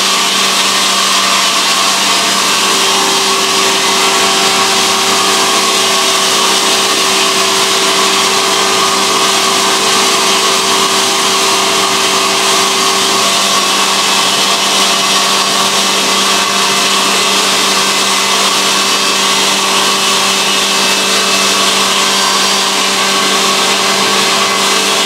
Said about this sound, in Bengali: এবার পেশাইটা তোমার একটু দেখিয়ে দাও, পেশাই কোয়ালিটিটা কেমন হয়েছে।